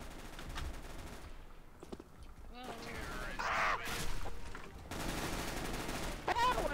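Bursts of rapid submachine-gun fire from a PP-Bizon in a competitive CS:GO match, several loud automatic volleys separated by short gaps, with voices talking in the background.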